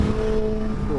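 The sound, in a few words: superbike engine revving and accelerating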